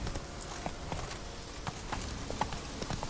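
In Witcher 3, a horse's hooves beat in a quick, regular galloping rhythm, a steady mid-level clatter with no talking over it.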